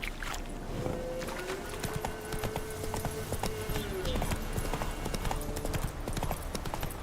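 Hooves of Roach, a horse in The Witcher 3 video game, clip-clop in a steady galloping rhythm, close and clear, over a soft sustained musical tone.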